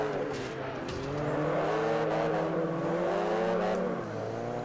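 A Citroen with 340 horsepower sent to the front wheels drones through a drive in Forza Horizon, its engine note rising and sweeping through revs with clear harmonic whine, loud and continuous, then dropping near the end.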